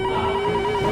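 A telephone ringtone plays a steady melodic tone, loud and close, continuing without pause in a short burst inside a house during heavy rain.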